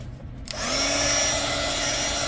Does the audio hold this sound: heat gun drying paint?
yes